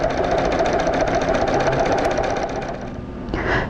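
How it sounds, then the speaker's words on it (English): A sewing machine stitches contours on a rug sample, running as a steady, fast mechanical chatter close to the microphone and slowing near the end. "I'm stitching along the contours that I've stitched previously."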